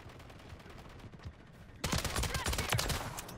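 A burst of rapid automatic gunfire in Modern Warfare 3 erupts loudly after a quieter stretch of scattered game sounds, the shots dense and rhythmic until the end.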